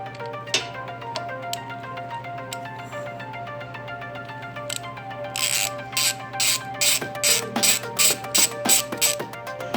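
Hand ratchet working on engine plates and plugs during a Raptor 700 project, heard at first as a few scattered clicks over a steady tonal hum, then as a rapid run of loud, rhythmic ratcheting bursts near the end.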